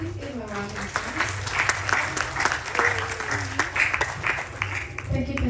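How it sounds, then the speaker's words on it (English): Audience applause at a Ganesh Chaturthi Utsav gathering, a moderate clapping wash running beneath amplified voices and low musical or droning tones throughout. "Please give him a round of applause."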